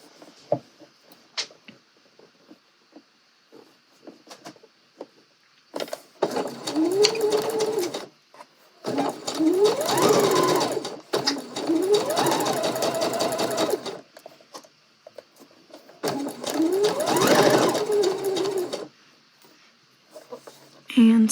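A sewing machine stitches dress fabric from one marked dot to another in four separate runs of steady, rapid close stitching with quiet pauses between them.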